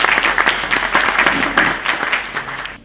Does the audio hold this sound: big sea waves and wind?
no